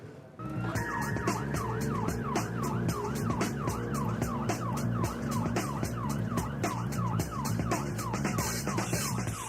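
A wailing ambulance siren sweeps up and down in rapid repeating cycles, loud and close, over the rumble of a moving vehicle.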